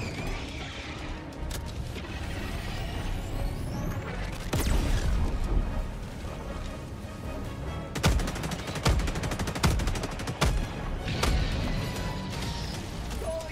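Rapid machine-gun fire from a Gatling gun in Helldivers 2, dense sustained bursts with sharp louder cracks and booms, loud and close throughout.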